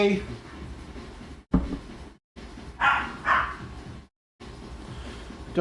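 A little dog lets out a couple of quick yaps close by, set against a constant low background hum, with a short thump and a silent pause around them.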